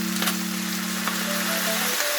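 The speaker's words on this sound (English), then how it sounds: "Add cooking wine." Cooking wine poured into a pot of braising pork, a steady sizzling, rain-like hiss with a sustained tone and faint clinks, continuous for about two seconds.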